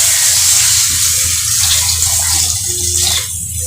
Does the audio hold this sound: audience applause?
no